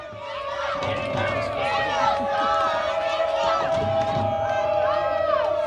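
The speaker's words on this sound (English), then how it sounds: "You hear that cheering from the Riptide sideline." Cheering and crowd noise from the Rhode Island Riptide sideline during a football game against the Southern Vermont Storm, a continuous loud roar of shouts and whoops, with a steady tone and a commentator's voice running over it.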